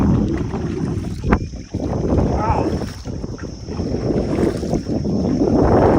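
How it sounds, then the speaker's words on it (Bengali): A small wooden dinghy moves across a Sundarbans river after leaving a trawler, giving a steady broadband rush of water and wind, loud and close, with a few brief knocks and no one talking. "ট্রলার থেকে ডিঙি নৌকা নিয়ে এবার আমরা যাচ্ছি ডাঙ্গার দিকে"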